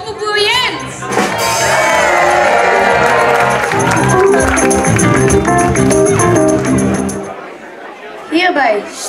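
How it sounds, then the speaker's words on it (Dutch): Cheering, whoops and shouts from a theatre crowd greeting a newly presented carnival prince, loud and sustained for several seconds before fading, with voices mixed in. "Geven we een groot applaus"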